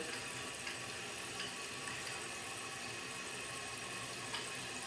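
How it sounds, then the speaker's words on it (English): A toilet tank refills with water after a flush valve repair, a continuous even rush and hiss of inflow that holds steady and fairly quiet for several seconds with no talking. "Now it's filling up nicely."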